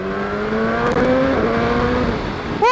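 A 2020 BMW S1000R motorcycle engine revs hard and loud, its tone climbing steadily in pitch, then dipping before a sharp rise at the end, with no talking.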